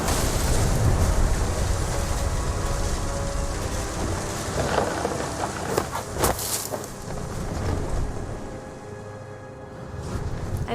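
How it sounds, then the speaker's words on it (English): Heavy rain with rumbling thunder during a storm in the video game What Remains of Edith Finch, a steady loud downpour with a few sharper close cracks midway, heard alone without talk. "The thunder sounded much too close and full of angry power"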